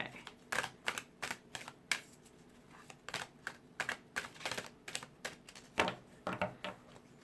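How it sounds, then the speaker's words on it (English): Cards are shuffled in quick bursts of crisp riffling and tapping, close up, with short pauses between the clattering runs. "That was a crappy shuffle."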